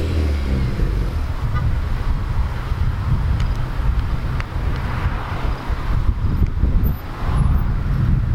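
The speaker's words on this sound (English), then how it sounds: "Taking it for a test drive, seeing if it runs okay." A Honda Civic Si fitted with a Skunk2 Alpha header on a test drive gives a steady, loud low engine and road drone with heavy wind rush throughout and no talking.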